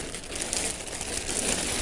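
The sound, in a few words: plastic bag crinkling while unboxing quilts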